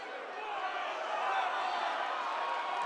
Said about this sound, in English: Hear that support in the crowd for Hicks